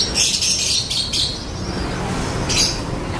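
Songbirds chirp in short, bright bursts at a bird kiosk selling caged birds, over a steady wash of market background noise.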